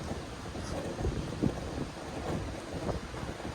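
Steady wind rushes and blows across the microphone, a constant broadband hiss with slight gusts and no voices.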